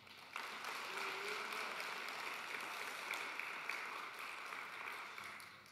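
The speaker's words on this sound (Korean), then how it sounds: "감사의 은혜의 박수를 올려드리겠습니다" Steady applause from a church congregation at a worship service fills the space, a dense even wash of clapping that holds at a constant level from start to finish.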